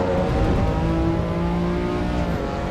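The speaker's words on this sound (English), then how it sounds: "the M's are very, very raspy, like even when you're in the car and you hear the exhaust, it's actually more tinny than this" BMW M car exhaust in the Assetto Corsa Evo racing game, a loud steady engine drone with rising and falling harmonic tones as the revs climb and ease, continuous throughout with no talk.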